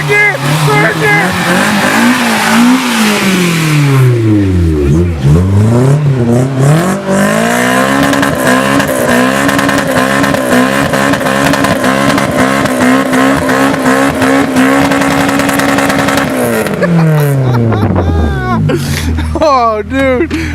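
A Honda Civic with a K20 engine accelerates hard through the gears, loud and close, pitch climbing then dropping at each shift into a long high-revving pull before easing off, with excited shouting over it.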